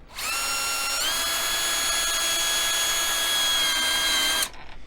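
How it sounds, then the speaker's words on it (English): A power drill drives a black sheet metal screw into the interior track of an RV automatic door closer, whining steadily and close for about four seconds before stopping abruptly. "we are going to drive it into the interior track that's closest to the screen"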